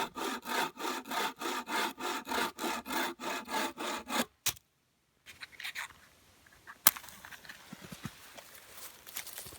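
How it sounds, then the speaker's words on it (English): A spruce tree being bucked for firewood with a hand saw at a wilderness camp: steady rhythmic back-and-forth strokes, about a dozen, close and loud, then a pause and softer scattered rustling and knocks. "I cut down and buck up a spruce tree for firewood."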